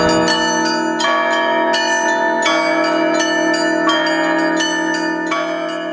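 The first ringing of newly consecrated church bells in Karmazinovka, several bells struck in a repeating pattern with a clear, bright ring and long overlapping resonance, close and loud.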